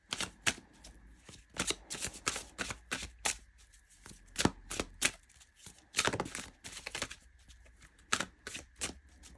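Oracle cards being shuffled by hand in a series of quick papery riffling bursts with short pauses between, fairly close and moderately quiet, with no talking.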